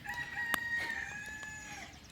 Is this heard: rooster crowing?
yes